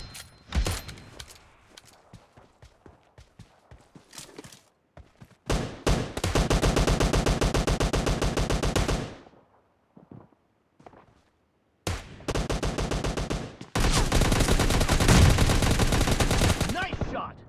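Gunfire from PUBG Mobile Lite during a team deathmatch: scattered single shots and footsteps, then long sustained bursts of rapid automatic fire separated by short pauses, loud and close.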